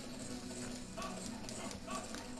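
A horse gallops in the video game Dynasty Warriors 8, its quiet clip-clop hoofbeats running in a quick rhythm across a short stretch against faint game background sound.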